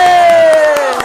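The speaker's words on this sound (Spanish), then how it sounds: "Y que recibamos con un fuerte aplauso a Payachín." A crowd cheers to welcome a performer onto a children's comedy show stage, with a sustained, gliding vocal whoop over the loud, dense cheering for about a second.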